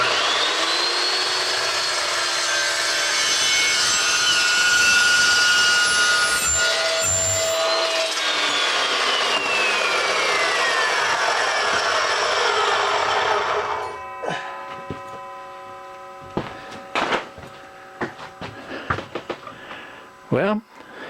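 A power saw trims about an eighth of an inch off a piece of wood, a loud, sustained whining cut that winds down around the middle, followed by quieter clatter and handling knocks.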